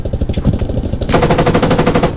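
Rapid automatic gunfire in the military shooter Squad, a loud, close, steady burst of evenly spaced rounds that grows harsher midway and runs to the end.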